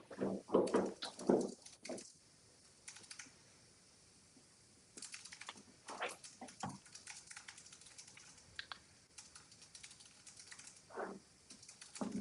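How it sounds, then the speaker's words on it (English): Bursts of clicky computer keyboard typing, quick runs of keystrokes separated by quiet pauses, close and fairly faint. "So I'm typing"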